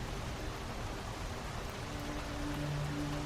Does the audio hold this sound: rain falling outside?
yes